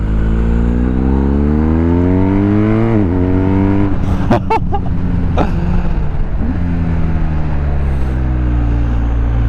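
A BMW R1250 GS motorcycle engine revs high while cornering, a loud sustained drone with rising and falling pitch and a brief shift dip in the middle.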